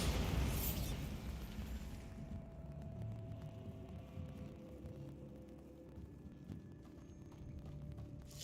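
A Bombarda spell blast in Hogwarts Legacy erupts as a loud, broad boom in the opening two seconds, then trails off into a low rumbling game ambience with faint tonal hum.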